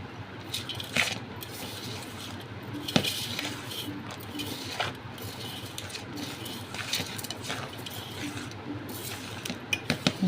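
Spices and chili powder being mixed in a container give repeated clinks, scrapes and rattling knocks of a spoon against the vessel, close and irregular throughout, with no talking.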